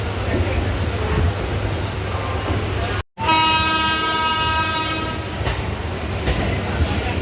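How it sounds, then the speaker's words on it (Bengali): A train departing for Tarakeswar rumbles along the rails with a loud, long horn blast after a brief cut, then continues clattering steadily close by. "আমাদের ট্রেন ছেড়ে দিল"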